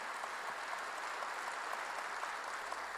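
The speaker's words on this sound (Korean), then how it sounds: "박수로 하세요." Steady, distant applause from a church congregation during a sermon, an even wash of clapping at low level throughout.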